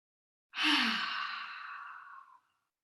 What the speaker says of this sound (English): Nice deep inhaling breath through the nose. Exhaling through the mouth.